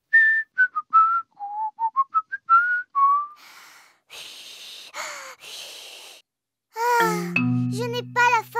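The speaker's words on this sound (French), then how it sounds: "Ensuite, tu peux siffler un air." A cartoon character whistles a short tune of rising and falling notes for about three seconds, followed by breathy puffs, a jingle and other sounds from a children's animated show.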